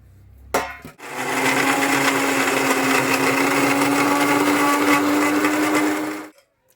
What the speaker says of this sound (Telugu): ఇప్పుడు రెండు కలిపి గ్రైండర్ చేసేయాలా